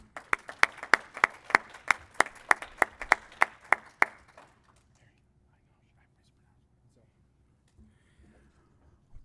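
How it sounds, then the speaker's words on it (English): Audience applause for a judge at a pitch competition in Hemet-San Jacinto, heard as a short, moderately loud burst of about a dozen sharp claps that stops after four seconds, followed by near silence. "Ladies and gentlemen, can we please give a round of applause for Harry Resqua?"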